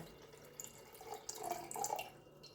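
Water poured and trickling into a measuring container while making puff pastry dough, a faint, thin splashing stream that swells midway through, close by and alone.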